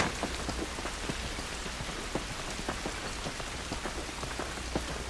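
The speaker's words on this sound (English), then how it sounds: "This rain ain't gonna do us any good." Dense rain pours steadily in The Last of Us video game, with many distinct drops spattering on surfaces over a constant hiss, loud and unbroken.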